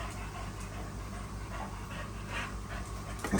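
A dog pants steadily close by beside a koi pond, a soft continuous rhythm of quick breaths under faint outdoor background noise.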